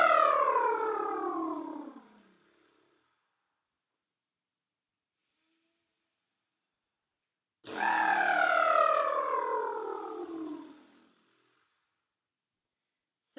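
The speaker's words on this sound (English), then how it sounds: "we're going to exhale and we're going to take the lip roll high to low" Two long exhaled lip rolls, each a buzzing lip trill that glides from high pitch down to low, separated by about five seconds of silence; close and fairly loud, with no talking.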